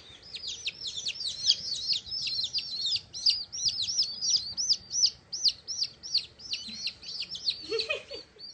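A bird chirps in a rapid, steady series of high, repeated notes at moderate volume, ending with a brief lower sound.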